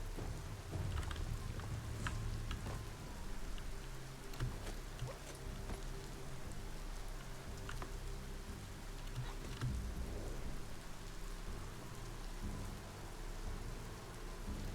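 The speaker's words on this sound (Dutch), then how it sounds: "Ik hoor regen en ineens zie ik ook regen." Steady rain in the video game Biomutant, a continuous dense patter with faint low rumbling underneath, fairly quiet and without voices.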